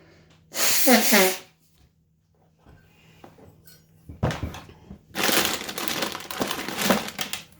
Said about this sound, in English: I'm going to blow my nose first.